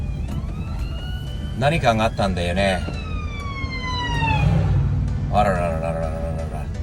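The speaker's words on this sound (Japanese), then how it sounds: "また消防車が来た。" Fire truck siren on an American highway in Texas, loud wailing tones rising and falling as the truck passes close, with road noise from a small Japanese kei truck and people talking over it.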